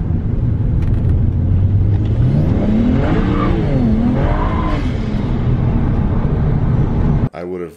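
A BMW E90 accelerates hard on a dusty gravel road with traction control fully off, its engine rising in a loud, climbing rev as the tires scrabble, before the sound cuts off abruptly near the end.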